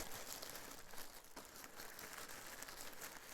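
Plastic packaging crinkles continuously while a delivered package of headphones is unpacked, a faint, steady rustle with no talking.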